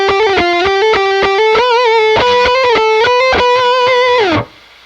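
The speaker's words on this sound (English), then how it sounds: "you can almost do some of the fuzz pedal licks with that" A loud, buzzy fuzz-pedal-style distorted electric guitar, shaped by a Katzenkönig Controls Dive Down pedal, plays a short riff of sustained notes and bends, then stops suddenly.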